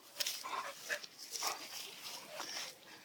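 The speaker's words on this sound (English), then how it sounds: "My puppy's learned how to climb trees. Yeah. Are you stuck?" A puppy stuck more than six feet up in a tree gives short high whimpers and yips, close and moderately loud, spaced unevenly across a few seconds, with a person speaking softly between them.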